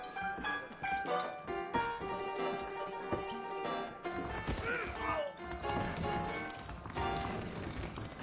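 Saddled horses' hooves clip-clopping on a trail in Red Dead Redemption, uneven beats alongside game music and character voices, with a brief whinny-like cry midway.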